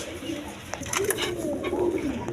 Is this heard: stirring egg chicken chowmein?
no